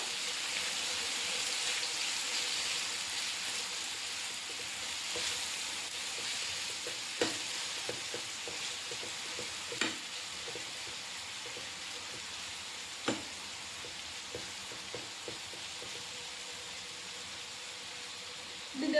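Chicken frying in oil gives a soft, steady sizzle, with occasional small clicks and pops from stirring.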